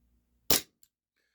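A single sharp crack from an HFC DarkHawk gas blowback airsoft pistol, firing alone and close, followed by a brief faint click of the slide.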